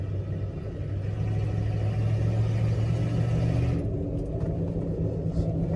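A square-body Chevy truck rolls along while warming up, its engine giving a steady low rumble with road noise that eases slightly near the end, no talking.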